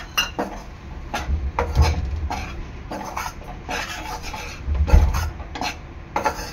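Wheat flour is roasted over low heat in a pan for modak, with a spatula rubbing and scraping through the dry flour in irregular close strokes and occasional low knocks against the pan.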